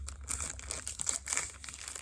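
Cellophane wrapping on a Paper Pumpkin craft kit crinkles and crackles close by, in short bursts of dry rustling lasting about two seconds, with no voices.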